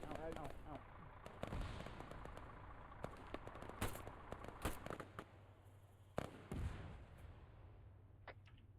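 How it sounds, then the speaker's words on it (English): Sharp blasts and crackling gunfire in a military shooter set during a winter NATO exercise, with one loud impact burst standing out among scattered distant shots, while players talk over the action. "Who the fuck just got rocket impacted?"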